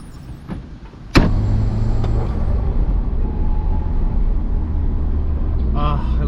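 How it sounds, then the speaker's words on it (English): A turbocharged 1990s car engine pulls hard with a steady roaring drone and a sharp transient near the start, loud and close inside the cabin. "I forgot how fun it is to drive a car with a turbo."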